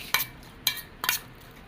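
Cooked rice is mixed by hand with curd and salt in a dish: three short, soft scraping strokes at a fairly even pace, close but quiet.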